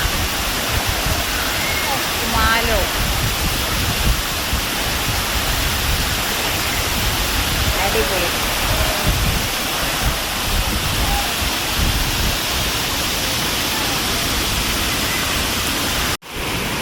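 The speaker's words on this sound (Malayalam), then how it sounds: "ഇത് അച്ചങ്കലിനടുത്തുള്ള വേറൊരു വെള്ളച്ചാട്ടമാണ്" A loud, constant roar of a waterfall near Achankallu in Kasaragod district, Kerala, fills the whole stretch, a dense rushing wash that cuts off abruptly at the very end.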